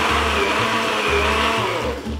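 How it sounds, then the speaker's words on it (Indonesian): A blender briefly whirs through rempeyek peanut batter with a pinch of salt added, a loud, steady motor drone with pulsing low tones, close and alone for about two seconds. "Di blend sebentar."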